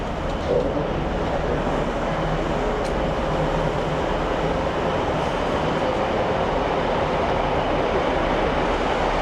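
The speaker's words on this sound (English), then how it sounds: "I've made it on the train and it's on time" Steady, continuous rumble of a passenger train in motion near Bolton, heard from inside, with a constant low roar and no talking.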